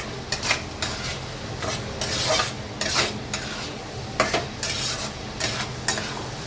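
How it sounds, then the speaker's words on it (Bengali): Masala of chilli powder and salt fries in a pan, an even sizzle under repeated, close spoon strokes scraping the bottom in bursts, with no speech. "এবার আমি ভালো করে কষাবো"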